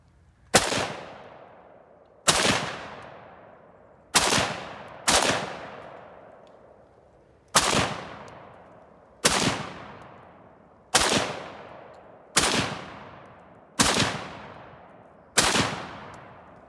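An SVT-40 semi-automatic rifle from 1941 firing about ten loud single shots at irregular intervals of one to two seconds, each a sharp crack with a ringing decaying tail, with no talking.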